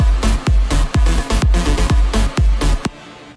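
A future rave electronic dance track's second drop, with a punchy snare and percussion in a driving, evenly spaced rhythm, loud and dense, over deep kick-like hits before cutting off.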